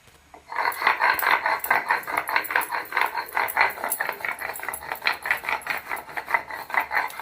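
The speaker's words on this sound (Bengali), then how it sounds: "আরেকবার ভালো করে মিহি করে বেটে নেবো" Spices are ground to a fine paste on a grinding stone for a mutton curry, a close, continuous scraping and rattling rub that starts after a brief quiet moment and keeps a steady, rough back-and-forth rhythm without talk.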